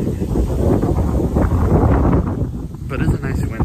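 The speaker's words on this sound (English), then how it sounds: "It is so windy." Strong wind buffets the microphone outdoors on the way to school, a loud, continuous roaring rush that swells and dips throughout.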